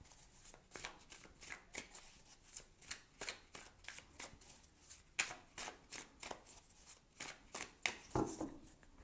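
Oracle cards are shuffled in a soft, rhythmic sequence of papery riffles and taps, close but quiet, with no voices.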